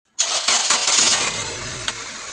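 A Nissan Almera engine cranks and catches after a jump start with no-start trouble, starting abruptly and settling into a steady close idle, with one brief knock near the end.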